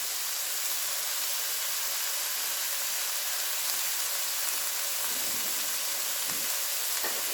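Leftover rotisserie chicken fried rice sizzles in a pan with a steady, bright hiss, close and even throughout, with a few faint clinks near the end.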